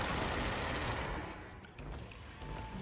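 Dense, steady gunfire in the video game Control, a continuous wash of overlapping shots, loud and close, briefly thinning near the middle before picking up again.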